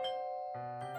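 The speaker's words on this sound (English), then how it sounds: "I woke up and ring the doorbell. There it goes." A doorbell in the Doki Doki Fallen Angel video game rings a clear electronic ding-dong, a sustained tone stepping down to a lower one and then brightening again, fairly quiet and alone.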